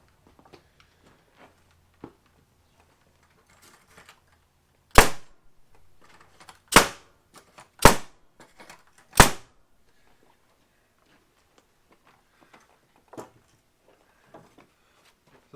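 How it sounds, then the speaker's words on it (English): Nail gun driving 2 3/8 inch ring shank full head nails into Woodmizer-milled lumber while building a horse shelter door: four sharp, loud pneumatic bangs, close by, spaced about a second apart, surrounded by faint handling noises. "I got nail gun here with 2 3/8 inch ring shank,"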